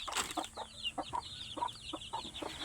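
Native chickens and chicks on a farm, hens giving repeated short clucks in an uneven rhythm while thin high chick peeps chatter continuously in the background, moderately close with no talking.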